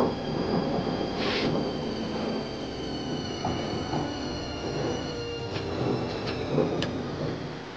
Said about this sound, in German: Sobald der Zug freigegeben ist, bringt ihn Kilian Arnold zur Talstation der Gornergratbahn.